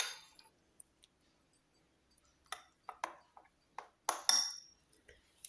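A spoon clinking against a bowl while dhokla batter is mixed with yogurt, with scattered light metallic taps and scrapes, close and quiet, with no talking.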